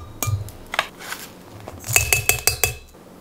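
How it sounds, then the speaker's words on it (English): Dry baking ingredients such as flour, cinnamon, sugar, baking soda, salt and cloves being mixed for holiday cookies, heard as a string of close clinks and taps of a utensil against a bowl, sparse at first and then quicker. "I'm gonna start by mixing together the dry ingredients, which is the flour, the cinnamon, the ground sugar, the baking soda"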